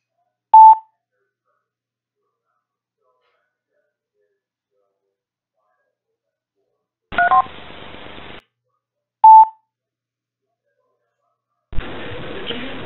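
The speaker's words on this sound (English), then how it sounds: "Let me let it beep." Two short electronic tone beeps sound alone, separated by bursts of static-like noise, with silence between them.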